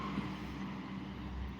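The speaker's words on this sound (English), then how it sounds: "another big truck" Another big truck drives by on the road, a steady broad wash of engine and road noise from some distance, fairly faint and unbroken, with no talking.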